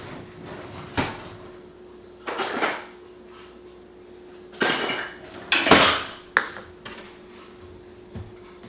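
A bread machine bowl is handled in a kitchen, with a few separate clinks, clatters and knocks of the bowl and utensils spaced out over several seconds, one sharp ping among them.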